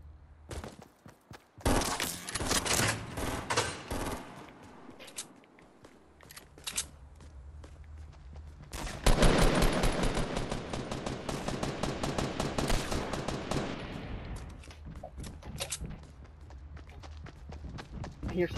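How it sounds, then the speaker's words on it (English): Rapid bursts of video game gunfire, some close and loud, others distant, with short pauses between volleys and faint voices underneath. "I hear gunshots. I hear a little burst."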